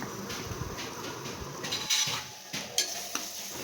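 Onions and ginger garlic paste sauté in a pan for chicken thanni kulambu, a close, gentle sizzle under scraping spatula strokes and a few light metallic knocks, with no voices.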